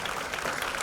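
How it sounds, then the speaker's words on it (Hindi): An audience at a dance arangetram claps together to welcome a dancer, a brief, even burst of clapping with no talk. "तालियों से हम उन्हें आमंत्रित करें"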